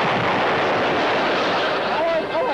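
A naval gun firing aboard a ship in a 1965 TV comedy, a loud continuous blast and rumble that fills the whole moment.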